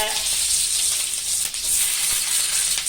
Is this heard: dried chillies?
yes